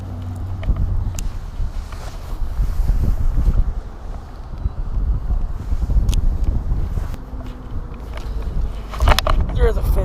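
Strong gusts roar across the microphone while fishing from a boat on saltwater, a loud, continuous buffeting rumble that rises and falls, with a person talking at times.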